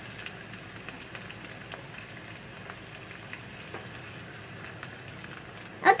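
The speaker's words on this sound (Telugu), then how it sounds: "అల్లం వెల్లుల్లి పేస్ట్ వేగిపోయింది ఫ్రెండ్స్. ఇప్పుడు మనం దీంట్లో ఉప్పు, కారం," Ginger garlic paste frying in a pan with salt, chilli powder and turmeric gives a soft, even, continuous sizzle like light rain, ending in a short louder clatter.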